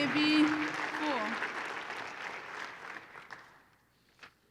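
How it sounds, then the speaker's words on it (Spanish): A church congregation breaks into sustained applause, a dense wash of clapping that starts loud under a brief voice and gradually thins and fades, with a few scattered claps trailing at the end. "Si ese aplauso es para Dios"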